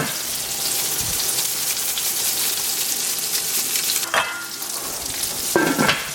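Steady sizzling of chicken for chicken parmesan frying in hot oil under a splatter cover, loud and continuous, with a brief clatter near the end.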